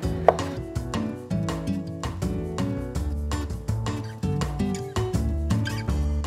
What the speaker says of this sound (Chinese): 其实基本上就是要切旁边的这些果肉出来